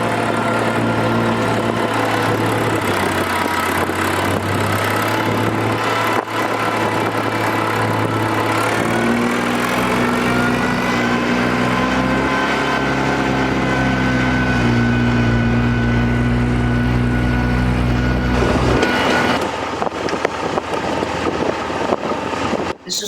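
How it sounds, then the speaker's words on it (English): A 1952 Minneapolis Moline U tractor engine pulling a plow at a spring plow day, droning steadily with a low rumble and shifting harmonic tones. The loud, continuous engine sound drops in pitch near the end, and there is no talking. "This is Rex Shaw from Kimberly, Idaho, driving his 1952 Minneapolis Moline U."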